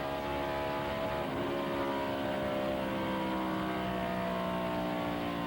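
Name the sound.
race car engine down back straightaway, Lowe's Motor Speedway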